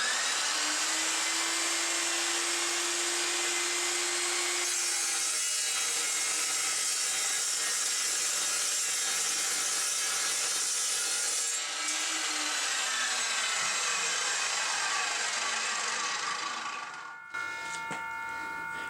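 An Evolution Rage 2 metal saw cuts steady and loud through a workpiece, a continuous grinding, rasping whine that shifts in tone partway through before cutting off near the end, with no one speaking.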